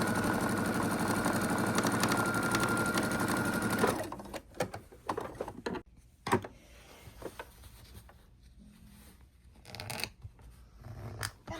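A sewing machine joins quilt strips from fabric scraps, a loud steady whir for about four seconds, then fabric rustling, handling clicks and short quieter stretches.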